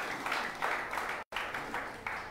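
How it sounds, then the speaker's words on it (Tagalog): A church congregation claps together at a New Year's Day worship service, giving a dense, steady round of applause with a brief dropout partway through. "palakpakan po natin si Jesus"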